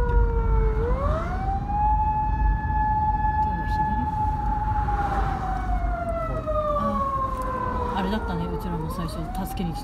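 A police car siren wails steadily in a long rising and falling tone close by in traffic, heard from inside a car on a drive in Gunma, Japan, with people talking quietly over it.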